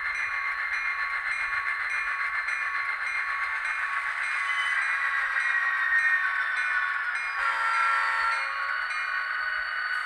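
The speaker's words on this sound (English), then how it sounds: "So those are great sounding diesel locomotives, and I think everybody needs a GP30 on the roster." ScaleTrains GP30 model diesel locomotive sound system playing, a steady mid-pitched engine drone with hiss, shifting briefly near the end, no talk.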